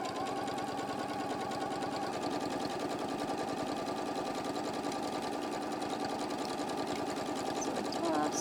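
A sewing machine stitches appliqué on a subscription-box project, its motor whirring steadily and loud with a fast, continuous needle rhythm throughout.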